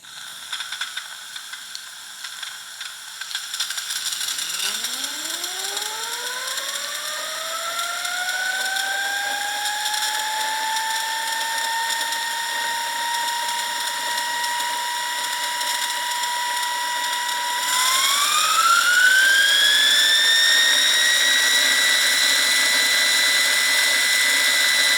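A Wilesco T115 toy steam turbine hisses as it spins up, a rising whine climbing steadily to a sustained pitch, then jumping higher near the end over a constant steam hiss, loud and close with no voices.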